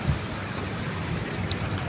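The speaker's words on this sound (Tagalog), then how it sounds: "Ayan, mahangin ngayon dito guys" Steady wind rushing past the microphone, a broad continuous roar with low rumbling buffets throughout.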